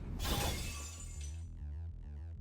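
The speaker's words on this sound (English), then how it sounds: "My right dagger shatters." Sword shattering as a sound effect from the Fate/Stay Night visual novel: a sharp, bright glassy crash that rings and decays, followed by pulsing low game music.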